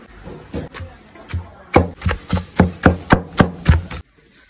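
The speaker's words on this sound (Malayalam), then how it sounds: "നമുക്ക് ചിക്കൻ ഒന്ന് പീസ് പീസ് ആക്കാം." A knife chops cooked chicken into pieces on a board for a kadai sandwich. A dozen close, crisp thuds come in a quickening, steady rhythm, then stop.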